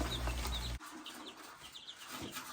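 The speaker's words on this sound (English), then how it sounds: "moving these chicks out to the chicken house" Young chicks peep and cheep softly while being moved out to a chicken house, with rustling handling noise and an abrupt bump early on.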